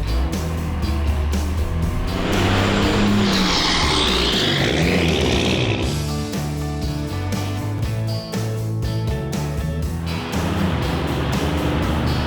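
A 1962 C30 truck swapped with a 12v Cummins diesel, driven with a loud, close engine drone that builds, eases off and climbs again, and no talking.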